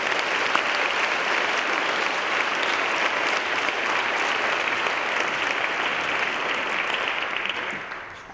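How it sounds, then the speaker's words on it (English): An audience at an interfaith dialogue event on MLK gives a full, dense round of applause, loud and steady throughout before tapering off at the end. "Can we give them a round of applause?"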